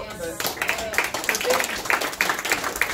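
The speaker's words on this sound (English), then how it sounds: "let's give Mina a big round of applause." Applause at a federal election candidates forum for the candidate Mina, a room of people clapping with distinct sharp claps standing out over a brief spoken word.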